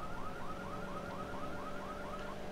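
In GTA III, a car alarm keeps cycling through steady rising chirps at a regular pace, a bit quieter and more distant, over a low game background with nobody speaking.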